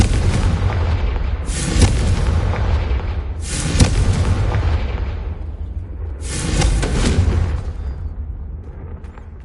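Three heavy booming blasts from the Confringo spell in Hogwarts Legacy, spaced a couple of seconds apart, each a loud explosive crack fading into a rumbling tail over steady low game ambience.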